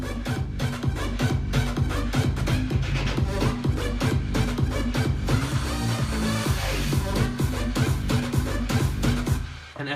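A gritty, wobbling Massive synth bass line drives a dense electronic dance drop, loud and continuous, layered with steady pounding drums and bright percussion, with no voices.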